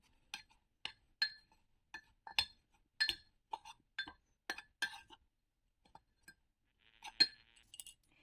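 A spoon clinks against a mug while mug-cake batter is stirred: a dozen or so bright, sharp taps in an uneven rhythm, close and fairly quiet, with a few softer knocks toward the end.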